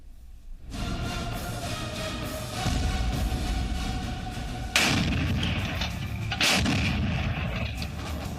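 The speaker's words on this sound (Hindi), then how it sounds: "एक 155 mm बोफोर्स तोप से निकला स्मार्ट गोला" A 155 mm Bofors gun fires artillery shells: loud booming blasts with long rumbling tails, with two sharp reports at about five and six and a half seconds standing out over continuous heavy roar.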